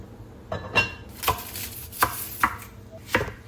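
A kitchen knife roughly quartering garden peppers on a cutting board for hot sauce, five or six distinct chops at uneven intervals, close and moderately quiet, with no talking.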